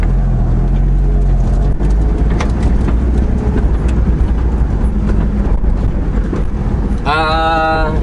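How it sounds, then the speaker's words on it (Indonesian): Lotus Elise Cup 250 under way on a winding road, its exhaust droning loud and close with steady engine note and road roar, a brief sharper burst near the end, with some talking mixed in. "Apa yang tak menariknya tentang kereta ni adalah exhaust dia."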